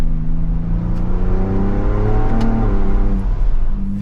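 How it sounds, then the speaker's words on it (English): A 2023 Ford Bronco Raptor engine roars loudly nearby, with rising whirring tones as turbochargers spool under boost and the revs climb and fall. "you can hear the turbos too under boost"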